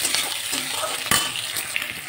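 Capsicum and onions frying in a pan for chili chicken, close bright sizzling with a few sharp spoon scrapes and stirring strokes against the pan, no speech.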